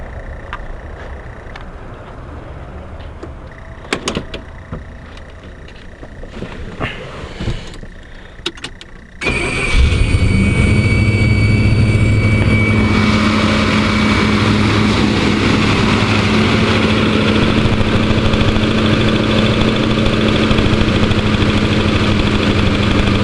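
A Rolls-Royce car with a stalling fault when hot: quiet shuffling and clicks, then the engine cranks and catches, settling into a loud, steady idle with a constant hum.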